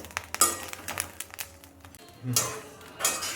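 Rice crackling and popping as it dry-roasts in a pan for Thiruvathirai kali, made with black kavuni rice: scattered sharp little clicks and pops, close and fairly quiet, thickening into denser bursts of crackle.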